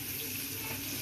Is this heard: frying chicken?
yes